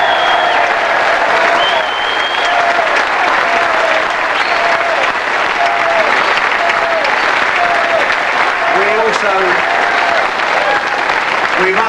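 Loud, sustained applause from a large crowd in a Cardiff arena at the 1999 World Professional Pool Championship fills the entire stretch, dense and even, with faint tonal sounds mixed into the clapping.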